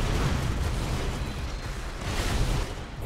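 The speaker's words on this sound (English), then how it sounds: "a big rocket comes in" A heavy rocket blast rumbles in a 3v3 Unreal Tournament Assault match, a loud, sustained low boom with crackling debris that swells and then fades slightly at the end.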